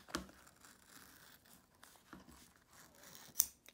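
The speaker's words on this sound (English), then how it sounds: "This time we're trimming the top." Scissors trimming embroidery fabric on an in-the-hoop zip bag project, a few faint close snips and soft fabric rustles.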